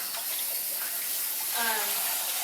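Running water rinsing a dyed cosplay suit, a steady hissing splash like a faucet or tub flow, fairly close and continuous, with brief voices near the end.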